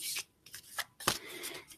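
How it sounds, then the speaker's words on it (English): Tarot cards being shuffled by hand in a vertical shuffle, giving several quick papery riffles and flutters in short bursts, close and fairly quiet, with no talking. "when you shuffle these cards"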